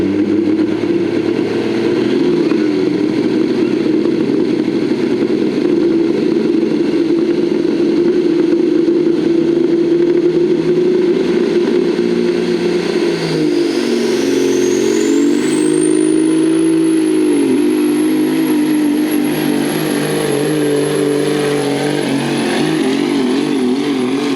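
A modified semi truck rated over 2,000 horsepower at a fair truck pull roars loudly and continuously, a heavy droning engine that shifts pitch midway as a high whine rises and holds; no talk over it.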